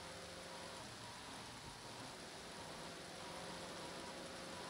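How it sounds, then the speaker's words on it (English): Rain in the video game Grand Theft Auto 3, a quiet steady hiss of falling water under faint low engine rumble, continuous and even throughout. "Oh, it's raining now."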